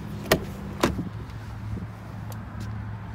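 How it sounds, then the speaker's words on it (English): The rear power sliding window of a 2017 Ford F-150 gives two sharp clicks close together, then a faint whirring motor hum, followed by a softer click and a later tick, all quiet inside the cab. "It's got the rear power slider window."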